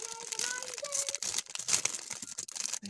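A plastic bag crinkles and rustles up close while a soap bouquet is being wrapped, a continuous papery crackle with brief sharper crinkles throughout.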